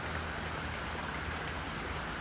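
Rain spots pattering on a coat and hood outdoors at a nature reserve, a steady dense hiss of drops close by with a faint stream and distant road noise underneath.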